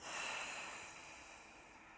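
A single soft, breathy exhale out through the mouth during a guided breathing exercise, faint and close, fading gradually over about two seconds.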